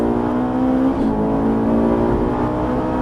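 A Ferrari 458 on the Haute Saintonge race circuit accelerates hard, its engine note climbing in a loud, sustained howl that briefly dips near the middle and then keeps pulling, heard from inside the car.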